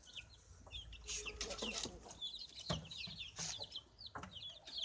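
A crowd of chicks peeping shrilly and continuously, close by, rushing to water, with scattered soft clucks and light rustling underneath.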